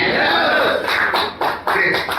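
An indoor audience claps steadily during a talk, a dense patter of many hands that stays loud throughout, with a brief dip partway through and voices mixed in underneath.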